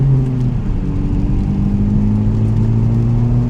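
Honda Civic Type R with its front resonators deleted revs up, a loud, close, steady exhaust drone whose pitch gradually rises across a few seconds.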